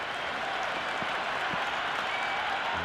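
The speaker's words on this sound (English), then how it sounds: "There's a buzz, a real buzz coming from the stands." A cricket stadium crowd at a CSK vs MI match applauds and cheers, a dense, steady roar of clapping and crowd noise filling the stands without letting up.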